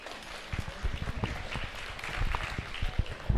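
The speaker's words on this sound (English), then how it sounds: "I think we need to give all these 4-H members a nice round of applause" Audience applause for 4-H members after a steer class at a junior cattle show in an arena, a steady patter of scattered hand claps lasting throughout at moderate loudness.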